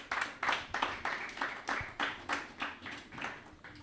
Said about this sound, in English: Please, can we clap for him?